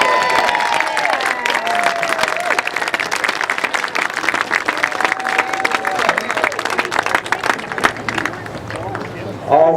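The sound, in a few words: rally crowd applause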